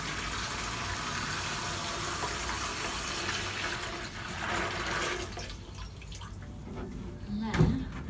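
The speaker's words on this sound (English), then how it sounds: "I'm literally just going to tip that into this bucket." Water tipped from a watering can into a bucket, roughly four litres, pouring in a steady broadband gush that continues for several seconds and then thins out, close by with a brief knock near the end.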